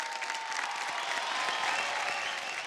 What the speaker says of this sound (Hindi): एक बार नेहा के लिए जोरदार तालियां।